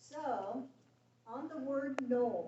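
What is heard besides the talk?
None of the usual background noises is heard.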